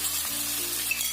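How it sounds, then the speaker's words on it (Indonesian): Chicken meat stir-fried with wilted ginger in a hot pan, a steady close sizzle and frying hiss running throughout with faint stirring scrapes and no voices. "kita masukkan daging ayamnya. Kita tumis sampai"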